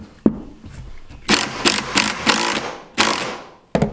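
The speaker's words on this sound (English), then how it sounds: "Hook up this battery to an impact, and then just ratchet down." Battery impact driver running in bursts while building a chicken auto-waterer, several short whirring, rattling pulses close by with brief pauses between them.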